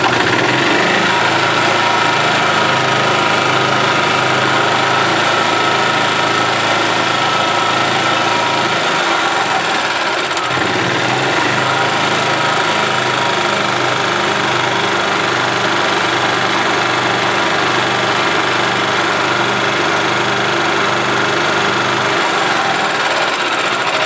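A gas engine on a 1991 Yamaha G8 golf cart runs steadily after a carburetor cleaning and new fuel pump, a loud, continuous buzzing idle with a brief dip midway, close by and without speech.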